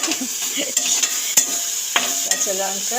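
Food stirred and frying in a pan during home cooking, a steady sizzle with scraping stir strokes and occasional clinks, close and fairly loud, no talking.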